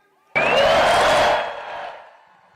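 A big outdoor political rally crowd in Los Angeles erupts in a loud roar of cheering and whoops, holding strong for about a second before fading away.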